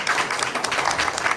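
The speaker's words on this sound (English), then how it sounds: "Can we give everybody applause, please?" An audience at a human services candidate forum claps in a brief burst of dense, steady applause heard from within the room.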